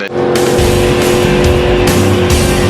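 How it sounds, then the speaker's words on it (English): A race car spins coming off turn four at a stock car racetrack, with loud, continuous engine roar from several cars close by and bursts of revving throughout. "Jimmie Johnson spun coming off turn number 4 to put us under the first caution flag of the day"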